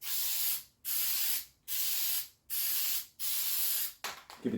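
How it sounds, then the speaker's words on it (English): An aerosol adhesive can sprays in five long, even hissing bursts separated by brief pauses, then a few quick sputtering spurts close by, applied to interior pillar lining of a Land Rover Discovery 3. "I'll spray a bit on the thing as well."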